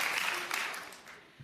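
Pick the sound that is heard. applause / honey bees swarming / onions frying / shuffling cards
applause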